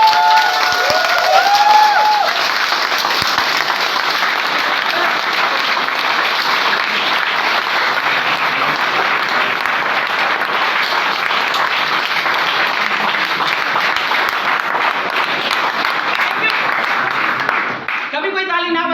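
Large seminar audience clapping with fingertips to imitate rain, a dense, even patter that holds steady throughout, with a brief voice at the start and a quick drop near the end.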